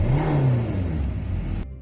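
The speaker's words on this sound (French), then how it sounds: "démarre le moteur pour s'enfuir" A car engine starts and revs up hard in a horror-story getaway scene, a close, growling acceleration that rises and holds, then cuts off abruptly near the end.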